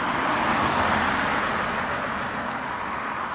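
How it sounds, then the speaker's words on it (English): A regular Audi drives past on the road, a steady broadband roar of tyres and engine that fades slightly toward the end, with no talk. "just an Audi, just a regular Audi"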